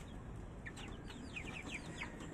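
Agitated ducks crowd a coop pen at feeding time, giving off repeated short quacking and clucking calls over a steady low rumble of background noise, moderately close and fairly faint.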